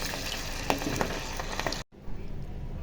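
Lemon chatkara boti pieces frying in hot oil over medium heat, a steady close sizzle with small pops, broken by a brief drop to near silence before the sizzling resumes.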